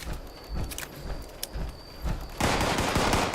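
An Alien Blaster pistol firing in Fallout 76, several quick energy shots with sharp transients, then a dense, loud burst of impact noise near the end, over game ambience.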